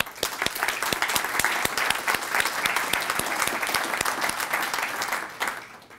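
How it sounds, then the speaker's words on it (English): A conference audience claps steadily, with a few sharp individual claps standing out above the crowd over six seconds at moderate volume, fading at the close. "A round of applause, please."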